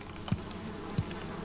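Bees hovering near a beehive in Valheim give off a faint, steady insect drone, broken by two soft low thumps.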